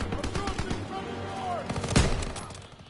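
Gunfire in Call of Duty WWII, a rapid string of close shots with a heavier blast near the end, mixed into busy battle noise.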